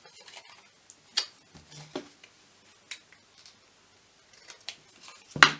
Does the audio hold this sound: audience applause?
no